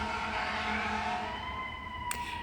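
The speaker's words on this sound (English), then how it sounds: "when I record a video on YouTube, it's always when I hear the fire trucks" A fire truck siren wails outside in the distance, faint and steady behind a quiet indoor room, with a brief sharp click near the end.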